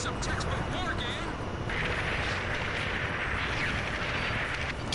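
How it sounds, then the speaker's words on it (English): Artillery fire from bunkers in the Ace Combat 5 flight game: a dense, steady rumble of distant booms and gunfire blends into a continuous loud roar, with voices talking over the battle. "Artillery fire from the bunkers"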